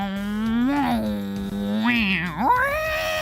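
A human voice imitates a car, a sustained buzzing hum that rises and falls in pitch like an engine revving, with a quick upward sweep near the end.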